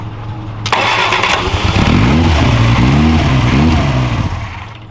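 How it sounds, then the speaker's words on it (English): A 1969 Reliant Regal engine on test roars loud and close, with the throttle opened and closed in rising and falling swells of revving before it eases back. "Oh, I'll give it some more throttle."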